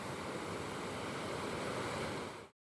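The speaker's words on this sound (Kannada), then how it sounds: "ಇದು ಬ್ರಿಡ್ಜ್ ಹತ್ರ ಇರುವ ಕರ್ವಾಲಲ್ಲಿರುವ ಒಂದು ಸಣ್ಣ ನೀರಿನ ತೊರೆ." A small stream flows near a bridge, its rushing water making a steady, dense hiss that carries on without a break before cutting off abruptly.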